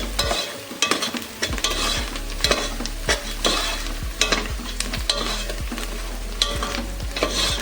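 Onions frying in a pan with turmeric stirred in, a steady sizzle broken by regular scraping strokes of a spoon against the pan, close and loud, without talk.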